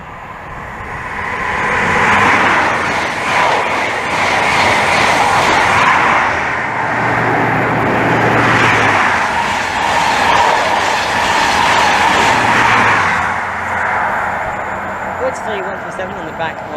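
Weston-super-Mare to London train passing Maidenhead station on the Great Western Main Line, a loud swelling rumble with rhythmic wheel clatter, rising and falling in waves as someone talks over it.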